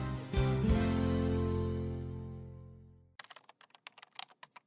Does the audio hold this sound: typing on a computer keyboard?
yes